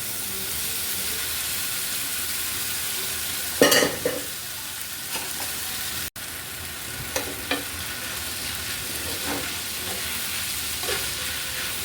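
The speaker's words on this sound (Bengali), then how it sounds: "এবার আমি নুডলসগুলো কিন্তু ভালো করে মিশিয়ে নিচ্ছি" Noodles with chicken balls and chicken sausage being stirred in a frying pan, a steady sizzling hiss throughout with occasional scraping stir strokes of the spatula, close and fairly loud, no talk.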